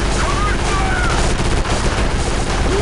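Rapid, dense automatic gunfire from the video game Area 51 (2005) fills the whole stretch loudly, with shouted voices mixed in among the shots.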